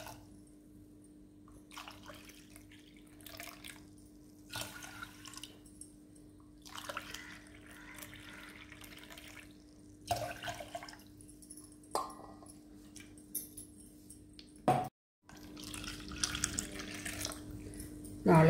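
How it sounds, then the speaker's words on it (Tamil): Water is poured from a vessel into a pressure cooker holding rice and lentils, several short pours and splashes with pauses between, fairly faint over a steady background hum. "இந்த அளவுக்கு நாலு தண்ணி விடலாம்."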